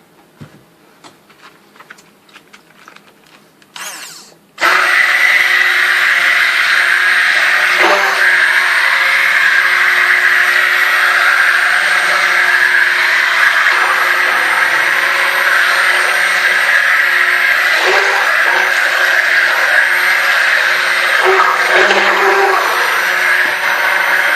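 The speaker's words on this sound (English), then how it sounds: "time to stick blend" A stick blender mixing cocoa-nut soap starts abruptly after a few quiet seconds, then whirs loud and steady for about twenty seconds, its whine dipping slightly now and then as the head moves through the batter.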